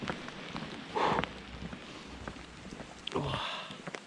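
Rain patters steadily outdoors during stealth camping in a storm, a soft continuous hiss with a few louder rustles and bursts.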